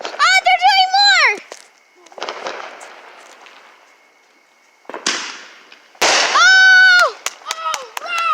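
Fireworks crackle and pop in bursts outdoors, with a sharp blast near the middle and another run of bangs toward the end, while excited children shout and talk over them.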